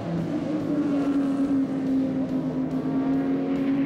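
Racing cars on a track, a Volvo and a Datsun running side by side with a Ford Capri close behind, their engines droning loud and steady throughout, with no other sounds breaking in.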